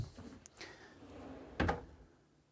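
A Cooke and Lewis Premium Plus drawer box being set onto pre-extended runners and pushed home, giving a soft slide followed by a sharp clunk and click, with no talk.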